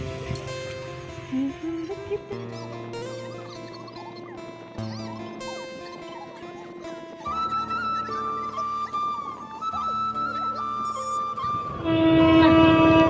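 A train passes near a field, with shifting tonal horn-like whines and rumbling wheels that swell louder toward the end, close and continuous, without talk.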